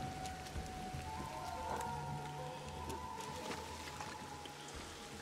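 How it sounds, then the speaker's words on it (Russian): Steady rain in Ancestors: The Humankind Odyssey patters continuously over a low rumbling backdrop, with a faint tonal hum running through and no voices. "Да, я слышу. Дождь."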